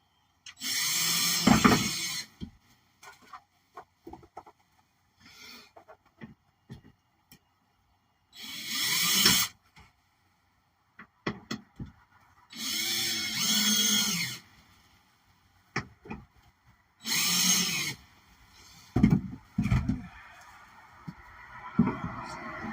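A power drill bores a starting hole in the cab wall of a van, running in several loud bursts of a few seconds each with quiet gaps and handling noises between them.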